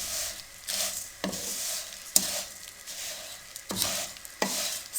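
Vermicelli frying on a low flame in a pan, a steady bright sizzle broken by repeated scraping stirs and a sharp clink of the spoon, close by with no voices.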